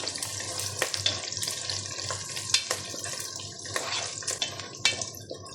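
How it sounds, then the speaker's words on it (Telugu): Onions fry in a pan for drumstick sambar with a steady, close sizzling hiss that carries on throughout, broken by a few faint stirring clicks, with no voices. "ఇవి కొంచెం బాగా ఫ్రై చేసుకోవాలి ఆనియన్ మనకి కొంచెం ఫ్రై అవ్వాలి బాగా"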